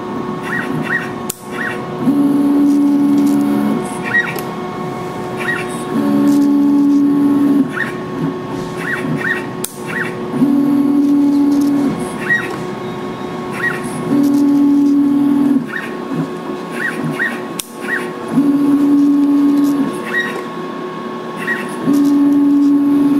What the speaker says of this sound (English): it'll press the cup onto the nozzle at the correct location.